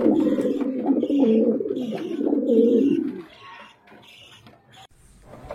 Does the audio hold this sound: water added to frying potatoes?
no